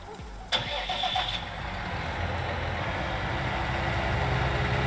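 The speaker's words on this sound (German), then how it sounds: "Ja, starten wir den gleich mal." A farm tractor serving as the manure spreader tractor in Landwirtschafts-Simulator 19 cranks briefly and starts with a sharp onset, then settles into a steady low idle that continues to the end.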